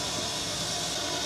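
Steam hisses steadily from a leaking gland nut with a porous casting on a 9F steam locomotive building pressure, a continuous close, loud, broadband rush with no pause.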